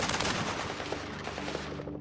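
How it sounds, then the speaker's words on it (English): Gunfire exchanged in a street shootout: dense, continuous rapid shots and bursts blur into a loud, sustained crackle that stays steady and then tapers slightly, with no voices. "They exchange more fire."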